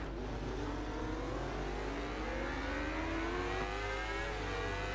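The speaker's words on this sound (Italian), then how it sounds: "4 cilindri a V, la Yamaha si sente." A synthetic Yamaha V4 superbike engine in the game Ride 2 revs up steadily, its pitch rising over a few seconds against a constant low drone, with no talking.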